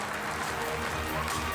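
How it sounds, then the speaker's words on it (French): An audience claps at a cabaret show, a dense, even wash of applause heard from within the room, steady and moderately loud throughout. "un tonnerre d'applaudissements"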